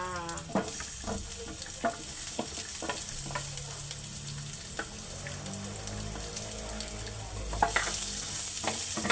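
Onions are added to garlic already cooking in a pan over low heat and sautéed, giving a steady close sizzle and frying crackle with repeated scrapes and taps of a stirring utensil, no voices.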